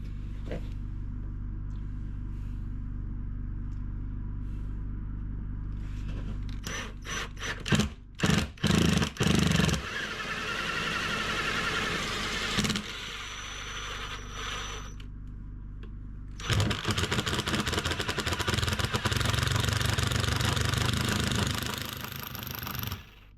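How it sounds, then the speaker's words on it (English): A power drill bores a hole in an off-grid tiny house cabin build, first as a steady low motor drone, then in choppy stop-start bursts, then in a loud sustained whir near the end. "Now we're gonna get our hole drilled."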